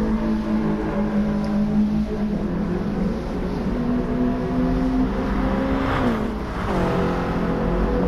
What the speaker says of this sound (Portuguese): Ó o pipoco, deu pra ouvir daqui.